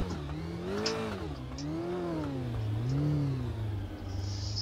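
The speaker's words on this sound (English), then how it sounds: "great sounding car, V8" A V8 race car engine in the Automobilista simulator revving up and down in repeated rising and falling sweeps, close and loud, with no talk.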